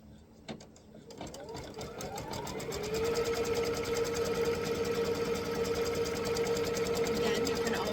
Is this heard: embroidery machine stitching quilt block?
yes